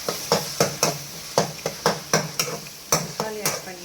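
Onions and tomatoes sautéing in a pan, with a rhythmic series of sharp spatula strikes about every third of a second over a low sizzle, close and loud.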